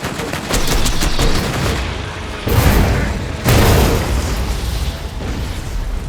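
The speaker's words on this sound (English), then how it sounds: "I love those exploding noises" Explosions in Borderlands 2 burst loud and close, several heavy booms mixed with rapid gunfire crackle, rising and falling in waves.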